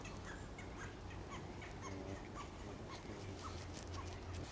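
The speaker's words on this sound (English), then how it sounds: "It's 3 woodpeckers." Three woodpeckers call repeatedly from a distance, short sharp notes scattered over steady outdoor background noise.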